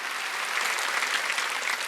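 Brief burst of steady clapping from a church congregation during a Sunday worship service, a dense, even patter of hands at moderate distance with no voices over it.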